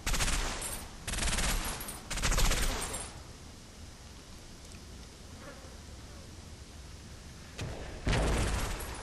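Machine gun fire in the war game Combat Mission: a few short, dense bursts of automatic fire near the start and again near the end, with a lower battlefield rumble in between.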